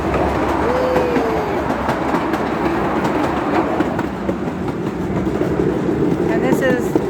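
The Old Smoky amusement park train at Knoebels rumbles along with a continuous clattering roar, faint squeals and voices mixed in, heard from on board close up.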